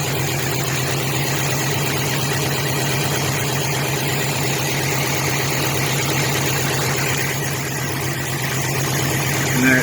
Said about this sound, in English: Car actually sounds a lot better already.